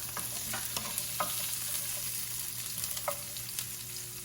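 Garlic frying in oil with onion for Mexican tortilla soup, a continuous close sizzle broken by several sharp stirring scrapes and taps against the pan.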